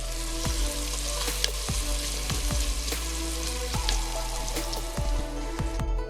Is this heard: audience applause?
no